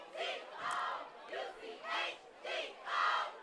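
A high school football crowd at Durfee vs. Fairhaven cheers in rhythmic swelling waves, five or six loud chant-like surges with brief dips between them, filling the stands.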